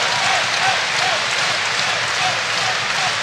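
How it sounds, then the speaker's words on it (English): Raucous cheering and applause from a basketball crowd at a FIBA EuroBasket 2017 game between Finland and Slovenia, a loud, dense, continuous roar of claps and voices with no gaps, heard alongside an excited commentator. "And the crowd are raucous again."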